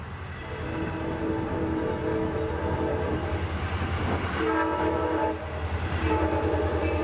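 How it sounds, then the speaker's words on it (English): Freight train led by an ex-Chesapeake and Ohio SD40-2 locomotive with a badly clogged horn rumbles past in cold snowy weather, sounding a raspy, choked horn in repeated blasts over heavy engine drone and clattering wheels. "The leader of this train is an ex-Chesapeake and Ohio SD40-2 with a very clogged up horn."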